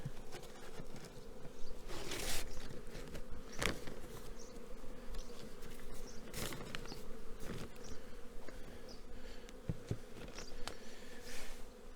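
Steady, dense buzzing of many honeybees close by at an open hive, continuous throughout with a few louder passes of individual bees.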